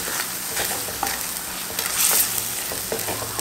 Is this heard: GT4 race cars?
no